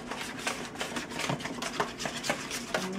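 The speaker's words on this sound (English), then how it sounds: "So we just whisk them together until they're lovely and smooth." Ingredients are whisked together in a bowl until smooth, giving a steady run of light, rhythmic clicks and taps against the bowl at close range.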